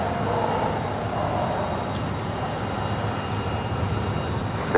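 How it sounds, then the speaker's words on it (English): A United Airlines Boeing 737-900ER departing for Denver from LAX, a steady, loud, broadband jet roar that holds evenly throughout without any voices. "Our next departure is United Airlines flight 2376 heading to Denver, Colorado."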